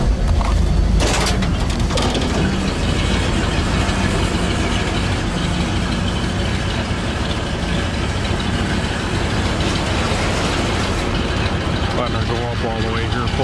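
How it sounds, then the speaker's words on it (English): Dump truck with a mechanical PTO engaged and its drive shaft spinning, a steady close mechanical whir and rattle over an idling engine, with a person talking over it. "So here that PTO engage, that drive shaft is spinning now."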